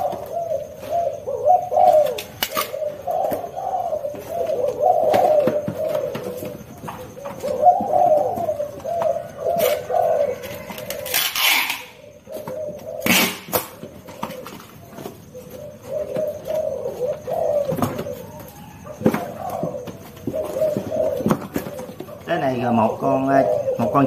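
Domestic pigeons kept for sale coo in a steady, repeated rhythm close by, while someone talks over them most of the time.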